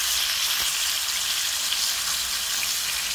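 Galungong fish frying in oil, a dense, steady, close hiss and crackle that sounds almost like rain, continuous for the whole stretch with no talking.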